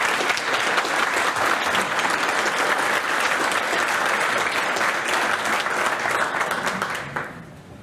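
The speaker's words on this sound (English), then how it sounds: "And this is the Australian people you proudly say you belong to, applauding you." A large audience claps loudly and steadily for several seconds as a dense, even wash of applause, then fades away toward the end.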